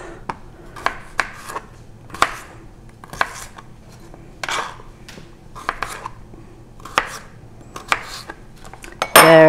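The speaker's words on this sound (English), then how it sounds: "Potatoes are chopped." A knife chops potatoes on a cutting board in sharp, irregular strokes, a dozen or so close, distinct thuds spaced by brief pauses, ending with a louder clatter.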